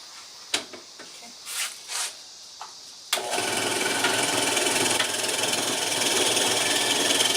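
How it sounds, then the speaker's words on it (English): A very basic benchtop drill press bores into a wooden desktop pen organizer, its steady motor whir and cutting noise starting abruptly after a few light clicks and handling sounds, then running continuously and fairly loud to the end. "a bigger drill press would have made this a little easier, but we have a very basic drill press, but it serves us well"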